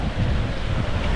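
Strong seaside wind on the Tunisian coast buffets the microphone with a loud, continuous low rumble and gusty roar throughout, with no voices.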